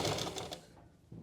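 A sewing machine stitches cloth in a brief, fast burst of rhythmic needle pulses that stops after about half a second, leaving a quiet hum.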